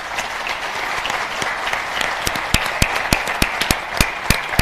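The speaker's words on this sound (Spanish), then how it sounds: "Eugenio, Sebastián, un aplauso para ellos" A seminar audience applauds steadily, with a dense wash of clapping and a few louder, sharper claps standing out near the end.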